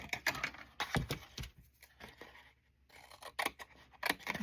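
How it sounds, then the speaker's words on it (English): Scissors snip through paper while cutting out a shape during stamping crafts, with a series of close, crisp cuts and a short pause midway before more snipping. "So I guess I can tear this or cut it."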